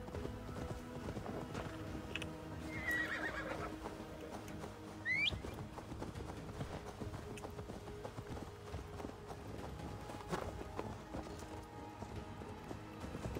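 A horse in Assassin's Creed Valhalla, with steady rhythmic clip-clop of hooves throughout, a short whinny partway in, and game music and ambience underneath.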